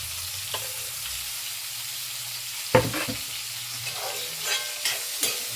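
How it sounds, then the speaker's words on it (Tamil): Onion and tomato sautéing with grated coconut in a pan, a soft steady sizzle with a few scraping stirs and clinks of a spoon against the pan. "அந்த வெங்காயம் தக்காளி கொஞ்சம் நல்லா வதக்கி வச்சுக்கணும்."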